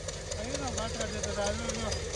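A tractor engine idles with a steady low chugging rumble during groundnut harvesting while a person talks over it.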